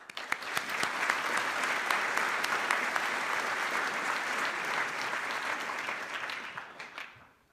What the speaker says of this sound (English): really quick round of applause for Patrick.